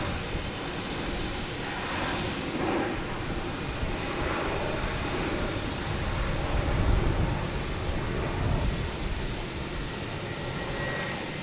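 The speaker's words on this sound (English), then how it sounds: "Alaska Airlines coming in from" Alaska Airlines airliner on approach to land at Boston Logan, a continuous broad engine roar at fairly loud level that swells slightly toward the middle, with no voices.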